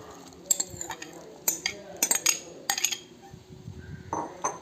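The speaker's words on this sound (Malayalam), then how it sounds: "ഇനി അതിലേക്ക് നമുക്ക് കസ്റ്റാർഡിലേക്ക് നമുക്ക് ഫ്രൂട്ട്സ് ഇട്ട് കൊടുക്കാം." A spoon clinks and scrapes against a bowl as fruit is added to chilled custard for a fruit salad, giving irregular sharp metallic taps and soft stirring sounds at close range, with no talking.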